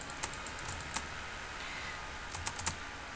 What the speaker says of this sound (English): I hear you furiously clicking over there.